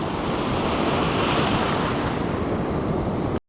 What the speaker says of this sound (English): the crashing waves are reachable now